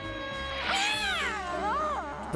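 Azrael, a cartoon cat, lets out a long, loud, wavering meow that swoops up and down in pitch, then trails into a second drawn-out yowl, alone and close.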